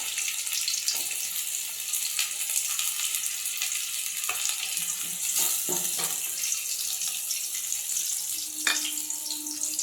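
Steady hiss of sliced onion sizzling in hot oil in a wok, with a few clinks and scrapes of a utensil against the pan.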